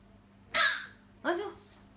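A child gives two short, sharp coughs about three-quarters of a second apart, close and fairly quiet over a faint background hum.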